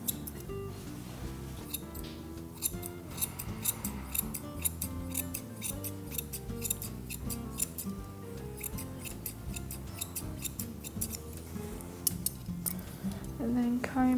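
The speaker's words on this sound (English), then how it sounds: "I prefer to scissor on a 45-degree angle so we get a nice little bevel happening on her foot" Grooming scissors trim fur on a dog's foot, snipping in quick, sharp, repeated clicks close by over a musical background, with a voice talking at times.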